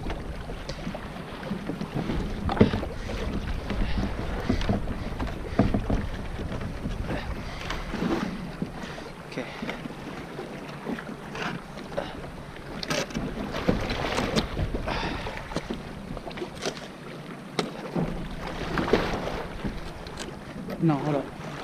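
Kayak out on Lake Tahoe, with paddle splashes and water lapping against the hull under steady wind buffeting the microphone, and voices talking intermittently.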